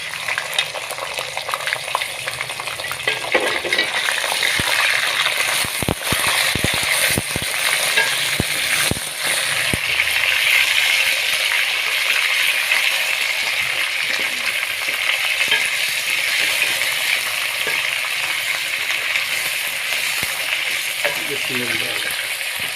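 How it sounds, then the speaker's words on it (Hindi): Chicken cooks in browned onions and paste in a pan, a loud continuous sizzle with repeated scraping stirs through the first half and steady frying after. "दो 3 मिनट आपने इसी प्याज में चिकन को अच्छे तरीके से पकाना है"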